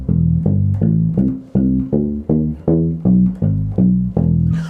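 Punchy bass guitar notes played thumb style with no EQ, a steady groove of short, muted plucks with a dry, unprocessed tone, played alone.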